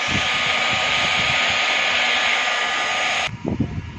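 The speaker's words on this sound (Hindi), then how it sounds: "आपको दिखा रहे हैं प्लास्टिक वेल्डिंग कैसे की जाती है।" A hot air gun used for plastic welding on a damaged plastic water tank blows with a steady, loud, close hiss, then cuts off near the end, leaving some handling noise.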